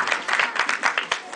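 Short burst of audience applause welcoming a performer named Francisco, close dense clapping with a few sharp individual claps standing out.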